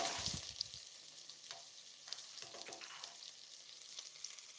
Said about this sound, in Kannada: ಆ್ಯಡ್ ಮಾಡ್ಕೋತೀನಿ ಈ ರೀತಿ ಹೊರಗಡೆ ತೆಗೆದಿಟ್ಟಿದ್ದೆ ಬೆಳ್ಳುಳ್ಳಿಯನ್ನು ಸಹ